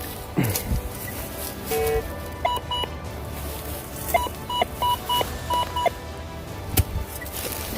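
A few short electronic beeps and warbling tones from a Gauss metal detector, pulsing in quick bursts over faint outdoor forest rustling; no one speaks.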